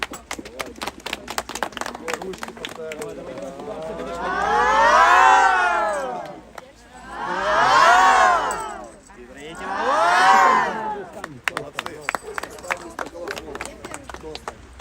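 Applause and cheering from the crowd at a youth football award ceremony in Morshyn for a winter cup team from Odesa, swelling in three loud waves between stretches of scattered clapping, with an announcer's voice over it.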